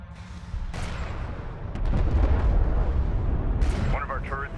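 Heavy gunfire and explosions strike a turret during a military video game battle, a dense continuous rumble of booms and blasts that grows louder midway, with radio-style voices talking over it near the end.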